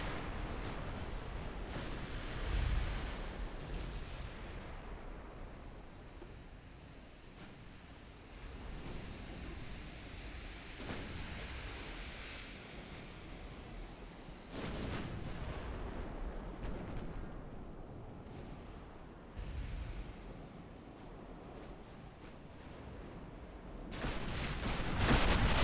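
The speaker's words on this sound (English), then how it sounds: "First torpedo has struck Roxborough" Torpedo hits on a warship in the naval strategy game Ultimate Admiral Dreadnoughts, a 1921 Ottoman campaign battle: several muffled, heavy booms rise out of a steady roar of sea and distant gunfire.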